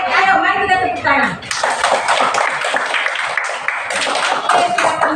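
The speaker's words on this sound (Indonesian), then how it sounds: "Ayo, mari kita tepuk tangan." Students in a classroom clap together in a dense, continuous burst of applause lasting several seconds, close and loud. A voice is heard at the start before the clapping takes over.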